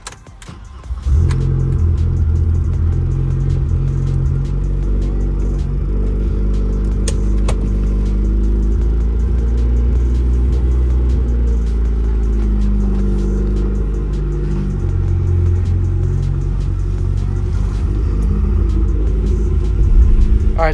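BMW E30 M3 engine idling and being driven slowly into an upholstery bay, a loud, deep rumble with gentle revs and small swells, steady for about twenty seconds, no talk.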